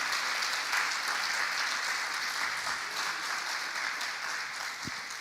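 Church congregation applauding in a steady, dense wash of clapping that holds at an even level throughout, with no voices over it.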